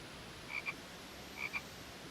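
Two short frog croaks from a video game, evenly spaced about a second apart, faint and alone against a quiet background hiss.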